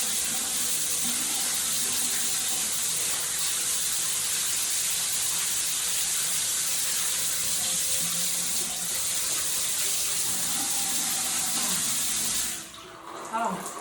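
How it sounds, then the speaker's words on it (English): Water runs steadily from a tap into a sink as a face is rinsed, a continuous close hiss and splash that stops abruptly near the end. "All right, let's give it a rinse."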